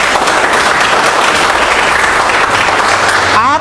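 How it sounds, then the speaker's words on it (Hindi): Sustained audience applause from a crowd at a Vestige training seminar, dense and steady clapping at full volume for several seconds before tapering off at the end. "सेलिब्रेट करो, ताली बजाओ अपने लिए"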